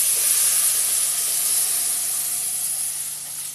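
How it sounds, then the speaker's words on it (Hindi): Milk poured into lapsi (broken wheat) roasting in ghee for a sweet halwa hisses and sizzles, a loud steady bright steam-like hiss that fades slightly toward the end, with no voices. "अभी हम इसमें दूध डालेंगे।"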